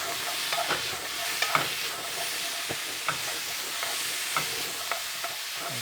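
Beef, green peppers and onions tossed and stir-fried in a pan with black bean and garlic: continuous close sizzle punctuated by intermittent scraping and clacking of the utensil, moderately loud, with no voices.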